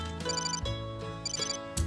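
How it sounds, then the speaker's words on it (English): A telephone rings in a commercial, repeated electronic trilling bursts over a steady tonal musical bed, moderately loud and without talk. "Phone."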